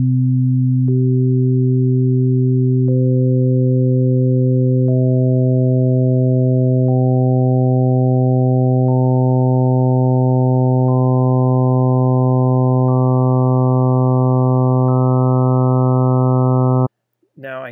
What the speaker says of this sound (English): And here's what they look and sound like when you add a few of them together.